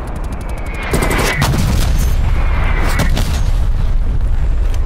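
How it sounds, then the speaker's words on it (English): Incoming artillery fire in Call of Duty Cold War: rapid clicking gunfire gives way to a loud sustained booming roar of impacts that fills the rest of the stretch, dense and close. "Artillery targeting detected."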